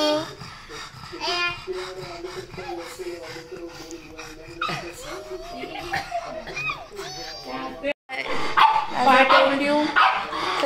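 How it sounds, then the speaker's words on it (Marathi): A puppy yips and barks in excited bursts, whimpering in between, while a person talks to it over the noise. "कुठे पिल्लू बुजो कुठे बुजो"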